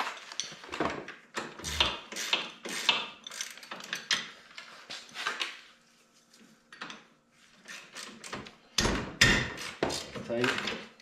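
A wrench clicks and clanks during a major service on a 2019 Polaris Sportsman 850 ATV, with sharp metallic taps and ratcheting in irregular bursts, a short pause in the middle, and talking intermittently.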